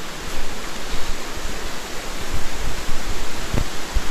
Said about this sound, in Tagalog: dito na kami sa mababaw na parte ng tubig. Maingay din dito, maingay.